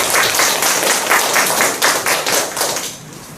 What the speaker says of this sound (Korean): 모두 큰 박수로